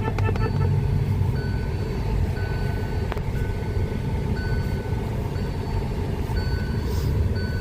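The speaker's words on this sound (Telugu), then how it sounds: "ఫిఫ్త్ గేర్ పడుతున్నది చూస్తాం ఫ్రెండ్స్." A Hyundai i20 turbo petrol GDI with a DCT gearbox drives along, its steady engine and road rumble continuous throughout, with faint tonal chimes coming and going and no clear break at the gear changes.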